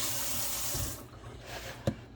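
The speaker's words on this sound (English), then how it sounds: "pour that in the bowl" Liquid poured into a mixing bowl while making parmesan meatballs, a steady hissing splash that runs for about a second, drops to a faint wash, then ends with a brief knock.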